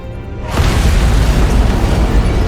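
An antimatter charge detonates aboard a ship in a Halo: Combat Evolved cutscene, a sudden heavy boom after half a second of quiet that swells into a loud, sustained rumbling roar.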